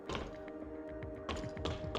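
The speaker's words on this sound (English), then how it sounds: "It sounds like someone's banging on the door." Banging on a door in the Tower of Fantasy game, a series of dull heavy thuds in quick irregular bursts, loud and close, over a faint steady tonal backdrop.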